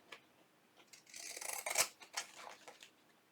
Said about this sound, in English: I'm going to bring in my pinking shears, and I'm going to trim